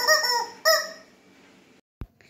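A dog plays with a squeaky rubber rooster toy, which gives two loud honking squeaks close together and then a short, sharp squeak after a pause, with no talk.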